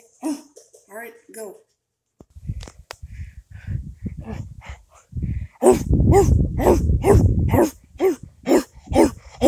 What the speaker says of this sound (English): It's the sound of a dog barking.